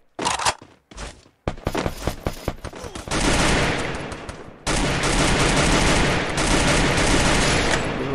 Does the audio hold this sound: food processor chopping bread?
no